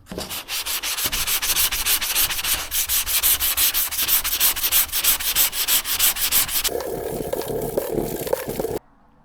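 A DA sander with an interface pad and 500-grit paper works over primer on the body of a finned Cadillac hot rod, a steady loud whirring rasp with rhythmic pulses, ending in a brief quieter scrub before stopping.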